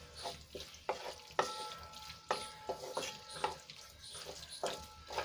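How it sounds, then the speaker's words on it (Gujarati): A spoon stirs tomato sauce into a pan of pizza masala, giving repeated soft scraping strokes at a steady rhythm over a quiet hiss, close and moderately loud. "તો અહીંયા આપણે ટમેટાનો સોસ એડ કરીશું, અને સરસ રીતે આપણે મિક્સ કરી લઈશું"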